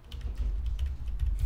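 Arrow keys on a computer keyboard tapped in a quick series of light clicks, close and fairly quiet, with no talking.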